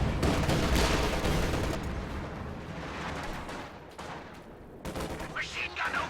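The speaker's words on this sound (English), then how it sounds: "Machine gun opened up." Gunfire and explosions in the Company of Heroes 2 strategy game, a dense rattling barrage with heavy booms, loud at first and then easing, with sharper bursts returning near the end.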